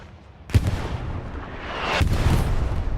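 A rocket strikes a medium Sherman tank in the Hell Let Loose battlefield game, two heavy booming blasts about a second and a half apart, the second rolling into a sustained rumble of distant fire.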